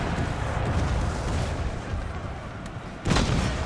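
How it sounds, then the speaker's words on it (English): Mortar fire during a Total War Empire battle with the Darthmod mod, a low, rumbling bombardment with a sharper thump near the end, set against steady battlefield noise. "Silence the mortar, please."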